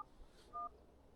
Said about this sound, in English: My phone's dialing itself